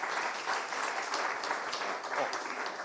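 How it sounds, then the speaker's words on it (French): Audience applause after a talk at a neuroscience lecture on degenerative brain diseases, a dense, steady patter of many hands clapping at moderate distance, sustained without pause. "On les applaudit tous les deux."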